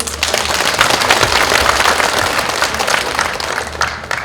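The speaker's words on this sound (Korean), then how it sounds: "박수 한번 주십시오." Loud, dense applause from a crowd at a political constituency report meeting in Yeongju, a continuous roar of many hands clapping close by for the whole stretch.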